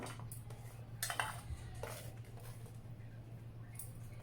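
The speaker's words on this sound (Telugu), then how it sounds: "ఇక్కడ ఒక కుక్కర్ గిన్నె తీసుకున్నానండి నేను తరిగి పెట్టుకున్న సొరకాయ వేసేస్తున్నాను" Chopped bottle gourd pieces tumble into a metal pressure cooker pot, a few soft clatters and scraping bumps against the metal, quiet and close over a low steady hum.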